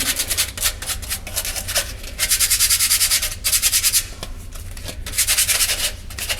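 Sandpaper rubs in rhythmic, close, loud strokes across a metal conduit fitting, the scratchy back-and-forth bursts coming in quick runs with brief pauses and no voices.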